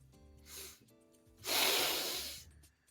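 A voice imitates a sniff: a short breathy intake, then a longer, louder drawn-out nasal sniff, close and otherwise alone.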